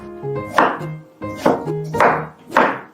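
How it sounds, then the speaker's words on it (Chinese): A knife chops vegetables such as a carrot on a board in a home kitchen, with four distinct, evenly spaced cutting strikes, close and clear, and no voices. "我正在厨房切菜。"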